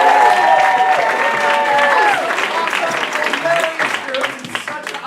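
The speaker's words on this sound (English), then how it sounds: "applause for all the great teams that came up before us" An audience at a live stage show applauds for the performing teams, clapping filling the space while voices carry over it, the applause gradually thinning out.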